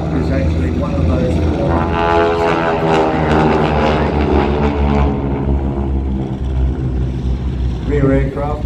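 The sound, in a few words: Harvard propeller aircraft flying at airshow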